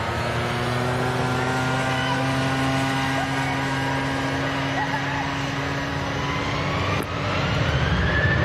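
A Tui airliner touches down at Manchester Airport in the evening, giving a steady droning engine whine with tonal hum over wind noise, and a brief sharp crack near the end.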